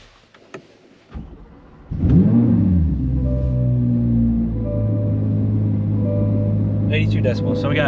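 A Chevrolet Corvette C8 Z06 with its catalytic converters deleted starts up and holds a loud, steady engine drone close by, preceded by faint clicks and followed by a brief higher rasp near the end.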